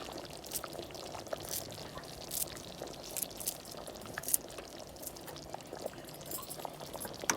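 Bubbling curry boiling in a pot for a Tamil-style home curry gravy, a steady soft simmer with small irregular pops and drips, fairly quiet and continuous with no talking.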